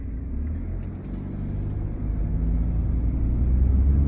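A BMW X1 xDrive 25d diesel SUV with automatic gearbox cruises along a road, its low engine and road rumble steady and gradually swelling, heard from inside with no talk.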